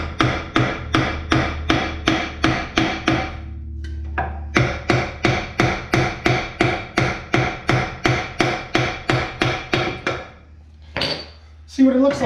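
A hammer strikes a rusty brake drum on a 1966 Ford Galaxie 500, ringing metallic clanks in a fast even series, a short pause, then another long run of blows, loud and near, ending with faint shuffling.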